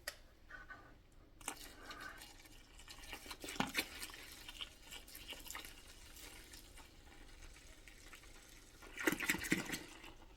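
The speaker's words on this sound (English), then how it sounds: "I'm gonna go ahead and add some more water" Water running into a large container for homemade liquid laundry soap, a steady faint splashing stream with louder surges near the start and end, no talking.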